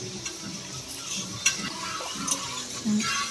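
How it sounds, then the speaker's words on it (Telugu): Chicken for pickle deep frying in oil, with a soft steady sizzle and occasional stirring and utensil clinks at close range, fairly quiet. "ఆయిల్లో డిప్ చేసి డీప్ ఫ్రై చేసుకోవాలి"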